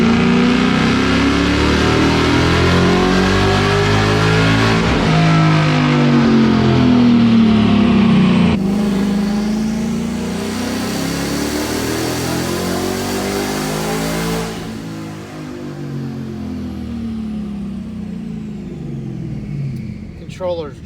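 A twin-turbo 2019 Ford Mustang GT V8, checked after a boost adjustment, accelerates hard from the cabin with a loud, continuous engine roar that rises through the gears and shifts pitch at each change, then eases off near the end.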